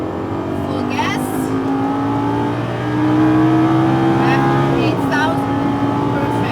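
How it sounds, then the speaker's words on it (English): A Lamborghini Gallardo or Ferrari F430 F1 engine roars at high revs on a racetrack straight, its pitch climbing steadily toward 8,000 rpm before a gear change, loud and close with faint talk underneath. "What a nice engine sound."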